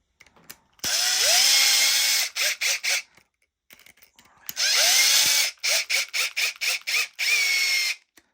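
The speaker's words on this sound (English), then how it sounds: "we're just gonna use electric drill because we can't be sitting around" An electric drill drives a part of the rear differential on a Mugen MBX8R 1/8 scale nitro buggy, whirring loudly in two long runs, each followed by a series of short stuttering pulses and quiet pauses.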